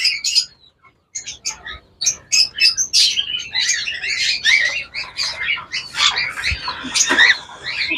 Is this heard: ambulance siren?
no